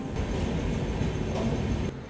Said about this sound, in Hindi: और ये है कर्नाटका एक्सप्रेस जिसका अराइवल हो रहा है गुंतकल में